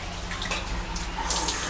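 Hot water gushing steadily from a tap at a budget swimming pool, a loud continuous rushing splash with no break.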